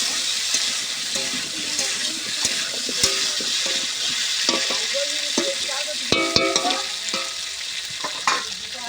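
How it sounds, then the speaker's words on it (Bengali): New potatoes frying in a pan hiss with a continuous sizzle, broken by repeated clinks and scrapes of a spatula stirring them, near and steady throughout, with no talking. "আলুটা অনেক ভালো করে ভাজতে হবে, যেমন একটুখানি ভাজলে হবে না।"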